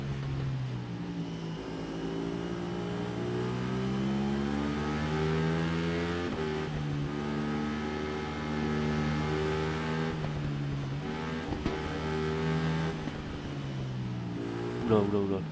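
A steady, high-revving motorcycle engine in the racing video game Ride 3 drones throughout, with its pitch rising and falling as it accelerates and shifts, loud and continuous.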